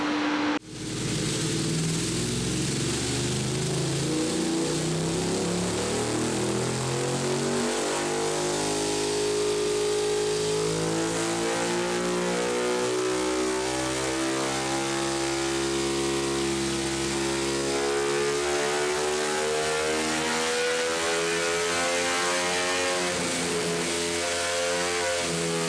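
A Ducati V2 Panigale motorcycle engine revs hard on a dyno during a power run, its loud, rising harmonic roar climbing steadily in pitch for a sustained pull with no talk.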